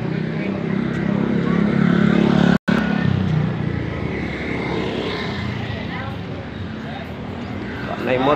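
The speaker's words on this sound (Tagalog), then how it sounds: "May motor makalakos dito." A motorcycle passes along a road in Borbon, Cebu, after a strong earthquake. A rough engine drone fills the scene, steady and fairly near. People talk throughout, and a brief dropout breaks the sound partway through.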